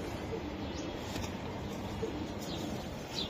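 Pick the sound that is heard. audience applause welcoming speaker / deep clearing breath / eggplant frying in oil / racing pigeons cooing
racing pigeons cooing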